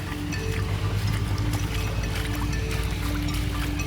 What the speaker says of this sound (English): the drains are just overflowing